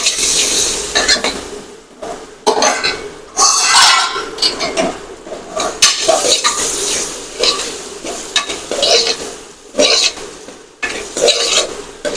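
Dried red chili, coriander-cumin powder and spices are stirred in a pot, loud close scraping and clinking strokes in uneven bursts over a crackling sizzle.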